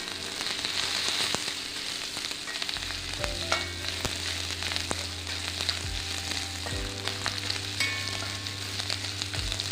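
Curry leaves and onion fry in plenty of coconut oil for Kerala inji thiyal, a loud, continuous sizzle with sharp crackles and pops scattered throughout. Low thuds and scrapes from the pan sit underneath.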